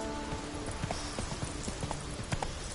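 Horse Roach's hooves clip-clop steadily in a video game, a brisk, close rhythm of hoof strikes over a busy ambient background.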